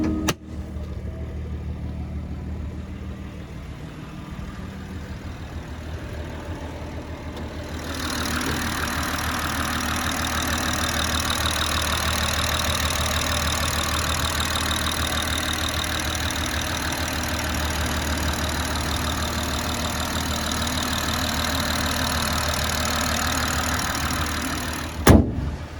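A BMW M140i with a stage 3 tune, custom hybrid turbo and straight pipe exhaust idles steadily nearby, its rumble thickening and growing louder partway through, then holding an even drone to the end.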